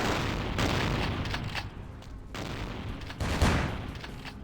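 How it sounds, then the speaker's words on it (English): Gunfire trades back and forth between characters in the video game Vampire: The Masquerade, with loud, dense volleys of shots in rolling bursts and brief lulls between them. "Okay, you keep shooting each other."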